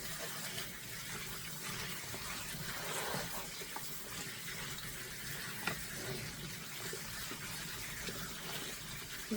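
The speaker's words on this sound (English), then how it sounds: "So let's go ahead and wash our taters." Potatoes are washed under a running kitchen tap, the water gushing and splashing steadily but faintly throughout.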